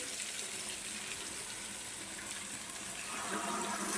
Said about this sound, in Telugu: వాటర్ వేద్దాం,